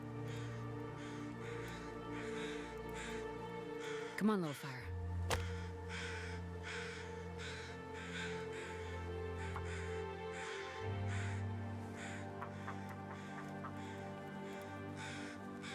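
Crows cawing in the survival game The Long Dark, several harsh calls scattered through the scene while a person speaks over them and a steady tonal drone hums beneath.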